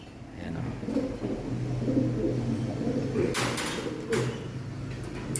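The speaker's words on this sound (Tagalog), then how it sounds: "Tapos ito naman yung mga ibon ni Brother Shine" Pigeons coo softly in a low, rolling murmur near the listener, with a couple of sharp knocks or door sounds partway through.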